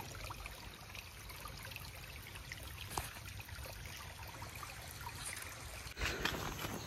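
Clear water flowing and trickling near a historic site by the Shri Dattakund pool, a soft continuous babble heard alone and fairly faint, with a brief splash near the end.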